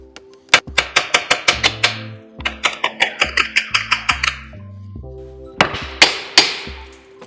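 A hammer strikes a CV axle on a 2001 Buick LeSabre, sharp metallic blows in two rapid runs of about ten hits each, then a few heavier spaced strikes, loud and close.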